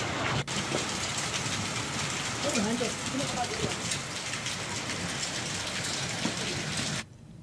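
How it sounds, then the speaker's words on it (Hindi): Steady heavy rain with hail in Dehradun patters loudly and continuously on surfaces, a dense hiss that runs throughout before cutting off near the end, with no talking. "देहरादून का मौसम सुहाना नजर आया और बारिश का मौसम, ओलावृष्टि हुई है राजधानी में जबरदस्त"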